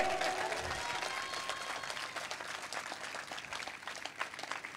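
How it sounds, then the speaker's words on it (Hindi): Congregation at a Christian church sermon applauding, a sustained wash of many hands clapping at moderate, fairly even volume for several seconds. "अरे और जोर से ताली बजाओ खुदा के लिए"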